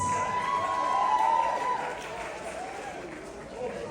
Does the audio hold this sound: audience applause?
yes